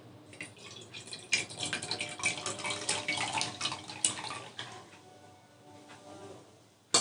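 Water trickles and splashes into a ritual vessel, a soft close pour with small drips that swell and then fade, ending in a sharp knock.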